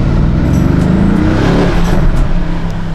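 A Mercedes GLC 63 AMG with a big V8 rumbles close and loud, a deep steady engine drone with slight surges in revs throughout.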